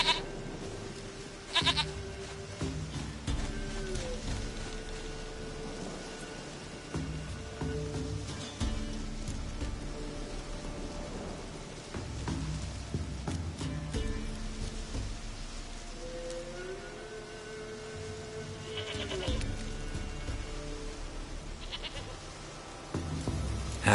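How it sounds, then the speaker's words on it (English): A goat bleats repeatedly in The Witcher 3, its wavering cries rising clearly over a steady rain-like ambience and game music, with occasional other sounds around it. "Goat of mine, dearest, sweetest goat."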